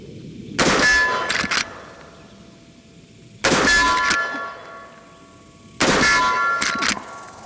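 Three loud metallic clangs from a Marlin 1895 Dark Series lever-action rifle in 45-70 striking a steel plate downrange, each a sharp ringing impact that sustains and fades, spaced about two and a half to three seconds apart with no talk.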